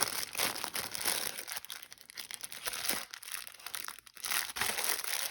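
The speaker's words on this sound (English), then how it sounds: "I'm sorry about the crinkling." Plastic packaging from an online haul crinkling and crumpling up close, dense rustling bursts with brief pauses, fairly loud and steady across the few seconds, no voice.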